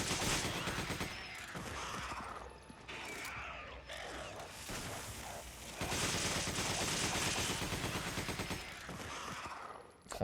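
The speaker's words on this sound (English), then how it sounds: "headshot with the hand cannon does wonders" Hand cannon fire and combat in Resident Evil 5, with dense, loud bursts of shots and impacts running nearly continuously, swelling louder in the second half, with chaotic mechanical clatter throughout.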